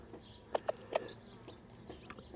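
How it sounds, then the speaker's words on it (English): A Millefleur Pekin bantam hen with seven chicks, a few soft clucks and faint peeps close by outdoors over a low breezy background, with no talking. "this Millefleur Pekin has got 7 chicks"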